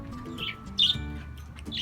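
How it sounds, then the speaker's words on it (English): Pet lovebirds chirp and squawk in a cage indoors, with a few short bright calls over a low background hum, one sharper call standing out near the middle. "lovebirds are in here"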